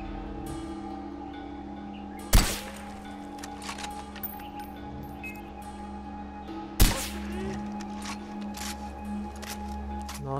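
Two loud, sharp gunshots in Far Cry 4, spaced several seconds apart and each ringing out briefly over a low, steady game background.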